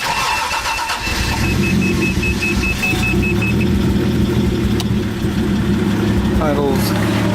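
A Toyota Supra engine idles in neutral with a steady, loud mid-pitched rumble and some rattling from underneath, while a voice talks over it briefly near the end.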